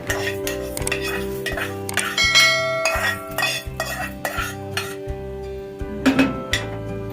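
Roasted urad dal, toasted in coconut oil for homemade bisi bele bath spice powder, scraped from a pan with a metal spoon onto a plate: repeated rhythmic scraping and clinking over a steady tonal hum, with no voices.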